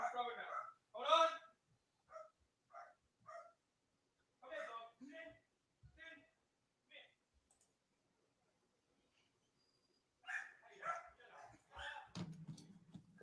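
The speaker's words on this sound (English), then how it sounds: "you better get that dog out of the way so it doesn't bite" A dog barks in a series of short, separated yaps and woofs from inside a home, moderately faint, with a pause midway and then a further burst of barks near the end.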